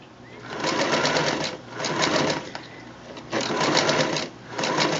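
A sewing machine stitches curved seams in fabric, running in four steady bursts of rapid mechanical clatter with short pauses between them, close and clear.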